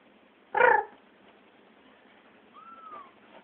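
A kitten gives one short, close meow, followed a couple of seconds later by a fainter, thin rising-and-falling mew over quiet background hiss.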